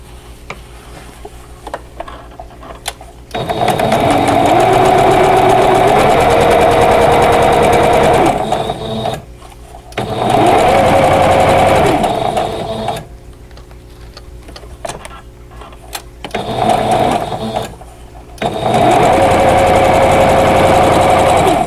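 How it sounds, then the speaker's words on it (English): A sewing machine stitches quilt block pieces together for a bow tie block, running in loud, steady buzzing bursts of several seconds each with short quiet pauses between. "Sew them together and just match up that seam"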